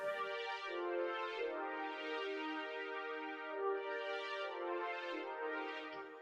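Sustained synth chords on a layered classic brass pad, from a Logic Pro remake of a song, swell and fade in rich, steady waves, playing alone without any talk.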